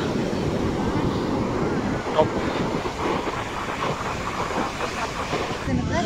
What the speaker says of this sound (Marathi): व्हिडिओ करताना बघा इथं लाटा पूर्ण